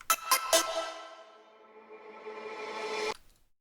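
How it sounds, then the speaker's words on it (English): Synth notes with a reverb effect in an electronic music breakdown: three quick plucked hits, then a long swelling tail that rises in level before cutting off sharply, with no voices. "This is just a reverb."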